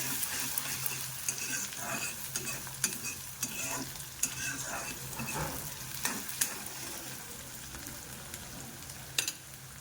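Onions frying in an iron kadai for chicken masala, a continuous close sizzle broken by repeated metallic scrapes and taps of a spoon stirring, with no talking.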